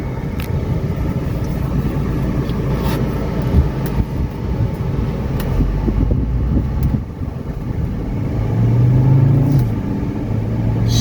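A 1979 Mercedes 300SD diesel sedan cruising on the road, its steady low engine drone and road rumble continuous throughout, swelling slightly near the end, with no voices.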